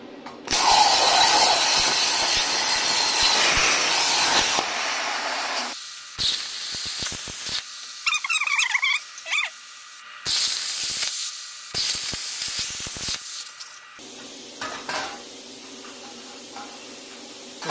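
An ArcDroid plasma cutter cuts washers from metal, a loud steady hissing roar followed by shorter hissing bursts with clicks and gaps between cuts, close by.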